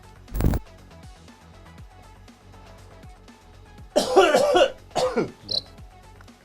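A single sharp cough comes first, then after a pause a burst of harsh coughing and throat-clearing from a man who has choked on something. It sounds close and loud over a quiet background.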